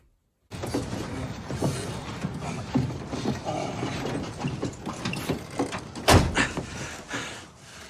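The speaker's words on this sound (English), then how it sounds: "I'm going to shut my door quick." A bedroom door is pushed shut at home, with a run of soft creaks, rattles and latch clicks leading to a louder, sharp thud near the end, close by and with no voices.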